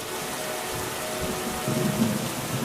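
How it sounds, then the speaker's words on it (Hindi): Heavy rain pouring steadily, a dense hiss with low rumbling underneath, continuous and fairly close, no voices. "कुछ दिनों बाद बहुत तेज बारिश होने लगी"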